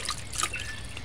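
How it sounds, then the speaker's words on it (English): Asparagus being rinsed under water, a brief soft trickle with a few light drips and splashes, close and fairly quiet. "Use your fingers and kind of gently rub the asparagus clean."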